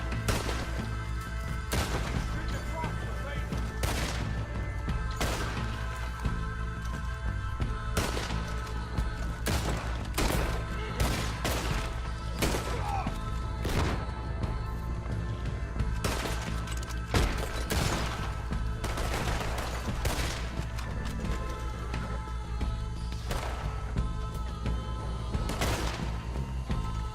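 Gunfire in a Red Dead Redemption 2 shootout: sharp shots crack out one after another at irregular intervals over a low steady rumble, close and fairly loud throughout.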